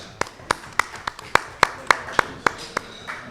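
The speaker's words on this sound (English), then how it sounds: "We got to clap a little bit." A few spectators clap in slow rhythmic unison, about a dozen sharp evenly spaced claps over a quiet room after a shot in a match.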